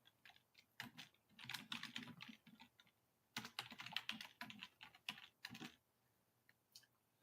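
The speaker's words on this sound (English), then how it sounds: "I just want to type a little notice." Typing on a computer keyboard, steady bursts of close, crisp key clicks in uneven rhythm with short pauses, heard alone without voices.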